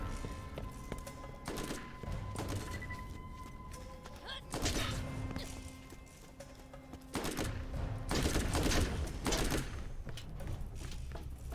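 Gunfire from a Borderlands 1 firefight, with repeated bursts of shots and heavy impacts at a steady mid distance, mixed with game effects and no talking.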